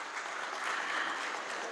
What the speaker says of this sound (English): I want to hear a big applause